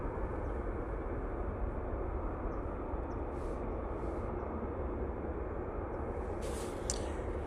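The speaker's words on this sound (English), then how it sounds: "EasyJet, now on short final." An EasyJet airliner on short final approach to Manchester Airport produces a steady, broad roar of engine noise that holds evenly throughout, distant and unbroken.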